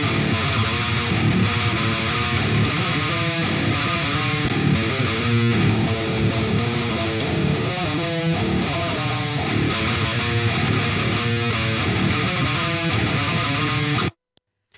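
Heavy, pitched-down distorted guitar chugs pound out a dense, loud palm-muted rhythm through a compression-style plugin chain, continuous for about fourteen seconds before cutting off abruptly to near silence.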